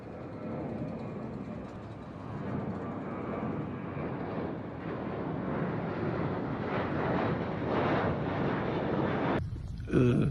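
Airliner engines roar loud and steady at close range, a broad rushing drone that swells slightly over time before cutting off abruptly as the broken plane is restarted.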